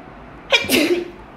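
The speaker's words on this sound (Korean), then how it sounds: "미안. 재채기가 나왔네." A single sharp human sneeze bursts out at close range, a quick inhale followed by a loud explosive release that fades within a second.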